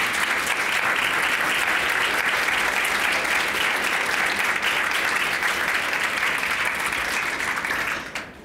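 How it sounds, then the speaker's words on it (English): Loud, sustained applause from a large audience at an Art Basel conversation fills the whole stretch, steady and dense before tapering off at the very end. "giving Suzanne, Marguerite, Roger, and Jeni a very warm round of applause and enjoy the conversation."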